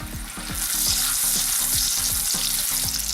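Tortilla frying in hot olive oil for smoked chicken enchiladas, a loud hissing sizzle that swells after the first half second and holds steady, with a regular mechanical hum pulsing underneath.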